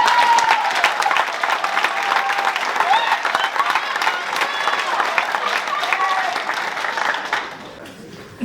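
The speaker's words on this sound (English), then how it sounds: "All right, let's give one more final round of applause for our boys." A crowd at a hometown pageant-style contest gives sustained, loud applause with scattered cheers and whoops over the clapping, which thins out and fades toward the end.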